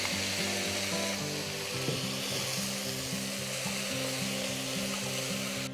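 Chopped onions and tomatoes sizzle loudly and steadily in a pan for sarson ka saag, with no talking, while a regular low mechanical hum pulses underneath.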